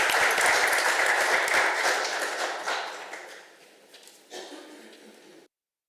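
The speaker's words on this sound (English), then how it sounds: "Again, a big round of applause" Applause from the audience at a regular council meeting, a loud burst of clapping that thins out over a few seconds, with a last small flurry before it stops.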